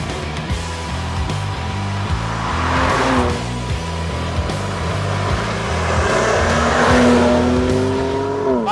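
A BMW M2 Competition with 411 hp, in Sport Plus mode, is driven hard around a race circuit, its engine loud and continuous as it revs up and down through the gears, with a brief tire squeal.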